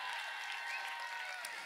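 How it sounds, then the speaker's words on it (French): An audience at a concert venue claps in a steady dense wash of applause, fairly distant and even throughout, with no single claps standing out. "J'aimerais qu'on l'applaudisse très fort."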